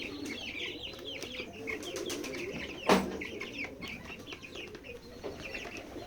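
Pigeons at a farm in Betikhola, Keshabpur, Jashore coo in a steady low murmur beneath scattered higher chirps and clucks, with one sharp knock partway through and no talk.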